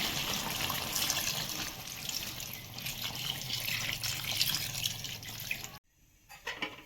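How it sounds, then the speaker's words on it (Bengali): Hot water pours steadily into a chicken curry for several seconds, a continuous splashing stream, then stops abruptly, leaving faint clinks and quiet. "এখন আমি সামান্য ঝোলের পানি দেবো,"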